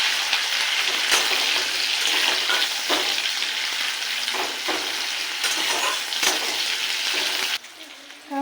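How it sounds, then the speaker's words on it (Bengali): Chopped onions frying in hot oil with bay leaf and cumin, a loud, dense sizzle broken by periodic stirring scrapes, close up, ending with a brief drop in level. "এবার দিয়ে দেবো পেঁয়াজ কুচি পরিমাণ মতো। এইটাকে একটু ফ্রাই করে নেব।"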